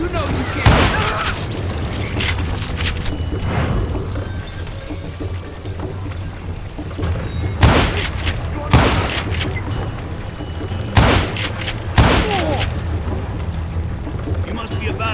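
Gunfire in the Western shooter Call of Juarez Gunslinger, several sharp loud shots scattered irregularly among rumbling booms, with a voice talking in between.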